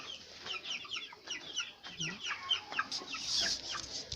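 Several chickens clucking inside a homemade coop, busy overlapping clucks and squawks at close range, with faint speech in the background.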